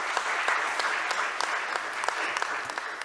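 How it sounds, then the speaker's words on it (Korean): Conference audience applauding at an international patent court symposium session, a steady dense clapping from a full room lasting about three seconds, with no speech over it. "큰 박수 부탁드립니다."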